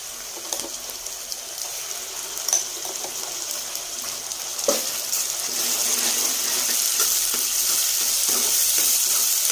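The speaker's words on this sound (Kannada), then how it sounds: "ಮಸಾಲೆ ಎಣ್ಣೆ ಬಿಡೋವರೆಗೂ ಚೆನ್ನಾಗಿ ಫ್ರೈ ಮಾಡಬೇಕು." Ground masala paste for a creamy mushroom curry fries in oil with a steady hiss and sizzle, broken by occasional stirring clicks, growing fuller and more even in the second half.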